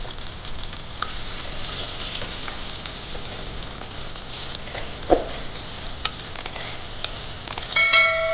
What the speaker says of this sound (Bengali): সর্ষের তেলের মধ্যে আলুগুলো নাড়াচাড়া করে ভেজে নেব।